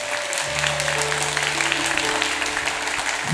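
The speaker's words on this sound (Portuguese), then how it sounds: "Aplauda isso em nome de Jesus." A church congregation at a Pentecost vigil applauds steadily in a dense, even wash of clapping, with a low sustained organ or keyboard tone underneath.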